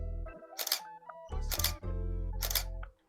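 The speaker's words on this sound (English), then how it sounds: "What's the setting that makes it take a photo super fast?" A camera shutter fires in three quick bursts of rapid clicks, close and crisp, separated by short pauses while a low hum sits underneath.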